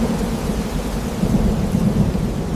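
Thunder rumbling low and heavy through a steady downpour of rain, loud and continuous with no clear breaks, the deep roll swelling slightly midway.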